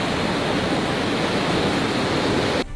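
Huge ocean waves crash onto the shore in a loud, continuous roaring wash of broadband surf that holds steady, then cuts off abruptly at the end.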